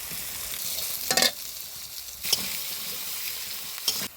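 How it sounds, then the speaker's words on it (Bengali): Raw banana frying with turmeric and salt gives a continuous oily sizzle, broken by three sharp bursts of stirring and scraping against the pan, with no talking. "এবার কাঁচকলা ভাজাটা করে নেব।"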